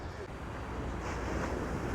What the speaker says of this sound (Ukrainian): Дивіться, які волни пригають. І шум.